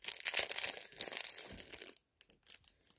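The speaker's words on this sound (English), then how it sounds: "we're going to open up this first package, and it's just in cellophane" Cellophane wrapping crinkles and crackles close up as a package is torn open, with bursts of dense rustling that drop away into brief silence and then a few short separate crinkles at the end.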